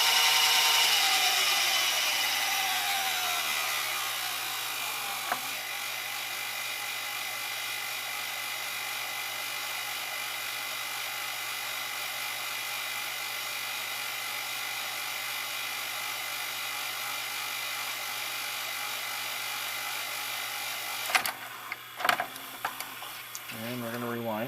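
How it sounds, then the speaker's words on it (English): Whirring of a Sony SLV-N55 VCR tape mechanism with a steady tonal hum as the spindle slows down, mechanical clicks and clunks near the end. "it's really good about sensing the spindle speed because it's slowing down already"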